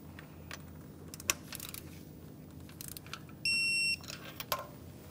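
Digital torque wrench giving a single steady electronic beep of about half a second as a spark plug in a 2012-2015 Honda Civic reaches 13 foot-pounds, amid faint ratcheting clicks and handling noise.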